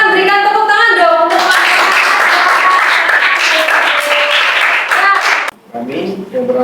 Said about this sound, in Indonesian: Silakan berikan tepuk tangan dong